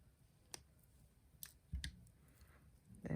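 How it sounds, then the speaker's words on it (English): Wire cutters snip off excess wire while a beaded Egyptian-style necklace is made, giving a few sharp, quiet clicks spaced apart in a quiet room. "snip off the excess wire"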